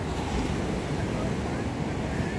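Ocean surf at Carmel beach in California at sunset, a steady close wash of waves mixed with wind buffeting the microphone, with no talk.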